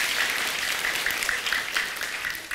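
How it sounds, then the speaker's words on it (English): An audience at a motivational speaking event applauding, a dense, sustained wash of many hands clapping at once that slowly fades toward the end, with no talking over it. "Everybody give yourself a round of applause."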